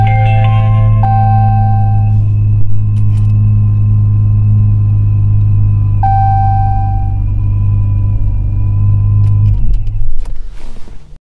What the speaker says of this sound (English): That supercharger whine is very nice when you start that bad boy up.